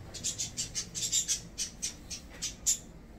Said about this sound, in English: Except for the birds.